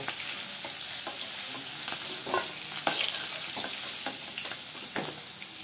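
Pointed gourd and potatoes fry in oil in a pan, giving a continuous close sizzle broken by repeated scraping stirs. No voice is heard.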